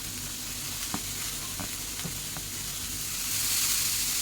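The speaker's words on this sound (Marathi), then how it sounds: "त्या तव्यामध्ये अशी परतून घ्यायची." Chopped dill greens sizzle steadily in a pan over a low flame, with a few soft scraping taps of stirring across the frying and no voices.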